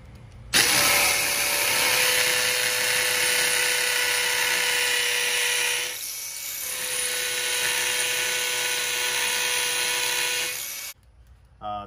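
A power drill whines loudly and steadily for about ten seconds, dipping briefly midway as it bores into masonry for a Tapcon screw, then stops.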